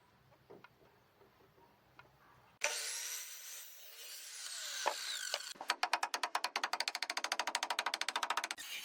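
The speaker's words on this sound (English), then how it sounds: "He uses a circular saw to make precise angled cuts, known as bird's mouth cuts" A circular saw cuts bird's mouth notches into wooden roof rafters: quieter handling knocks first, then a loud, close saw whine, followed by a fast series of rhythmic, rasping cutting strokes.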